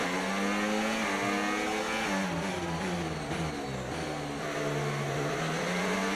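An F1 race car in the F1 25 game screams along at high revs, its engine note climbing and dropping through gear changes. The car is loud and close, and the engine drones continuously with no talking.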